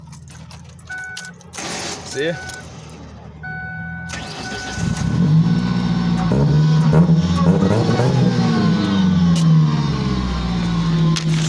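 A car with a Borla exhaust and a failing starter cranks a few seconds, catches, then settles into a deep throaty idle with swelling revs, close and loud, with someone talking around it.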